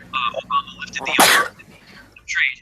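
One sharp, loud sneeze bursts out in the middle of a speaking voice, with talk before and after it.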